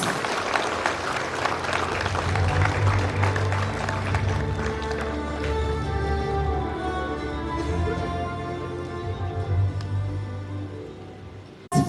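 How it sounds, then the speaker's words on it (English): An audience at an international conference on women-led organic farming breaks into sustained applause, a dense, steady clatter of many hands that holds for several seconds before thinning out, with faint background voices. "a big hand clap, please"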